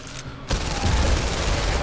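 Rapid, loud burst of gunfire erupts after a brief quieter moment and continues steadily, a video game firefight in the VR game The London Heist.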